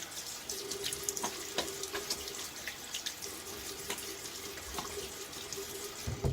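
A bathroom tap runs steadily while a shaving razor is rinsed beneath it, with a continuous close water hiss, light splashing and a few sharp clinks from the razor against the sink.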